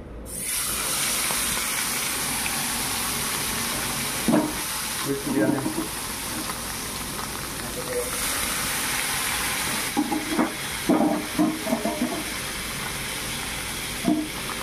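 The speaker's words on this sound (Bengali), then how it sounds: "তো গাইস দেখুন এদিকে আমার মাছ ভাজা হয়ে গেছে" Turmeric-and-oil-coated fish frying in hot oil gives a steady close sizzle throughout, with occasional clinks and spatula scrapes breaking through.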